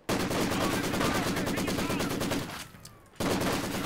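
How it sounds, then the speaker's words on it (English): A Maxim machine gun fires long bursts at a Grenadier in a Soviets-versus-Wehrmacht WWII strategy video game: loud, rapid, unbroken rattling fire that cuts out for a moment before resuming. "Maxim coming down heavily upon this Grenadier. Took 3 bursts."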